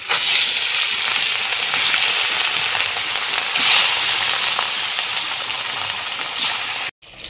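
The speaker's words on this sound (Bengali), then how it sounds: "তো আমার তেল গরম হয়ে গেছে, আমি এখন মাছগুলো ছেড়ে দেবো।" Pieces of rohu fish sizzle steadily in hot oil in a wok, a dense, even frying hiss that runs close and continuous for several seconds before a brief dropout, with no talking.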